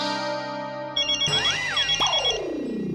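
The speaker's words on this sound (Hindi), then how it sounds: "अब किसका फोन है?" A phone ringtone breaks in suddenly and repeats its bright electronic tune in an office setting from a Hindi TV comedy, loud and clear over the background music, with no talk.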